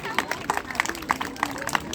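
Scattered clapping from an audience at an outdoor Ramleela performance, a handful of sharp, separate claps at a moderate distance over a murmur of crowd chatter.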